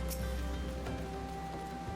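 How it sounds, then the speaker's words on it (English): Steady rain hisses in the video game Final Fantasy XIV, an even, continuous wash with faint scattered drop-like ticks and no talk. "I swear it's like raining half the time here."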